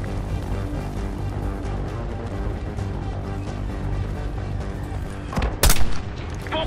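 Continuous rumbling combat din in Call of Duty Black Ops 6 with a loud, sharp mortar-like blast standing out near the end, amid steady background gunfire.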